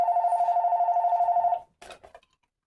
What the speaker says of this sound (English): Again, I apologize for the phone call.